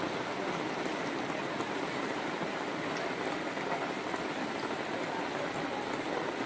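Heavy rain pours steadily on a forested mountain trail during a pilgrimage trek, a dense, continuous hiss of falling water close around, unbroken and alone without voices.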